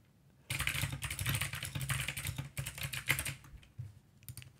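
Fast typing on a computer keyboard, close and fairly quiet, a dense run of key clicks that starts abruptly, pauses briefly and ends with a few scattered taps.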